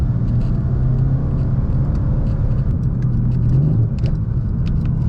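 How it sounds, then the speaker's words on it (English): Mercedes C63s AMG V8 with carbon ceramic brakes, cruising with a steady loud low rumble and droning cabin noise, with faint crackles and burble as it downshifts. "Nice burble on the downshifts as well. That's what we want from this V8."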